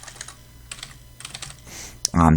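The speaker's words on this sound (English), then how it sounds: "So I'm typing in this second little box right here" Computer keyboard typing into a small text box on screen, a run of fairly close, irregular key clicks with short pauses, ending in a louder burst of sound.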